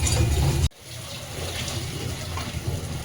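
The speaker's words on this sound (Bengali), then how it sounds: "আমি এবার একটু জল দিচ্ছি" Water pours into frying masala in a pan for Kolkata-style Mughlai chicken chaap. A loud sizzle cuts off abruptly, then a steady close rushing, bubbling wash continues.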